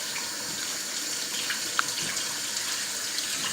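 Tap water runs in a steady hiss as cured pork belly for bacon is rinsed under the faucet, with a few faint splashes and knocks close by.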